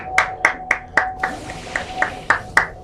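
Steady, evenly spaced hand claps in the video game Jak and Daxter, about ten in a row, sharp and close, with musical background tones running underneath.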